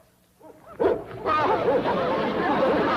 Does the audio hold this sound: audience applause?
no